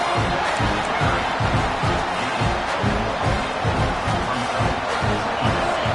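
A large American football stadium crowd roars continuously, a dense wall of cheering and noise with no break, as the crowd urges on its defense.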